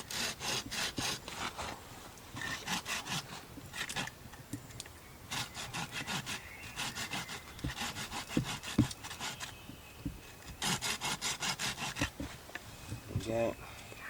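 A knife carves a notch and trims a point on a wooden stick for a bushcraft pot hanger, making bursts of short rasping strokes, close and moderately loud, with someone talking intermittently.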